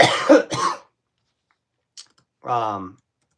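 Two quick, harsh coughs close to the mic, then a short pause, a small click, and a brief voiced throat sound.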